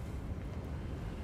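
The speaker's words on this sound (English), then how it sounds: "God, it's so windy here." Wind blows through the open air in Hogwarts Legacy as a faint, steady, low rumbling rush with no clear gusts.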